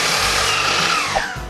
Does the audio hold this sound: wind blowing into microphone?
no